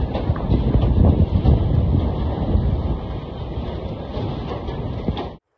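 Hurricane-force wind buffets the microphone at a Chinese market, a loud, continuous roaring rush that eases slightly midway and then stops suddenly.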